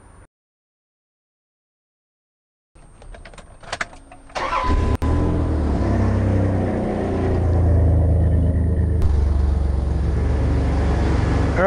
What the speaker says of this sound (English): so I just turned on the vehicle